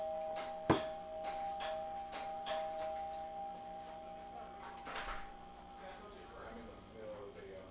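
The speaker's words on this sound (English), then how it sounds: "I know you guys heard that doorbell." A doorbell chimes with a clear ringing tone, heard faintly at a distance while someone talks quietly nearby.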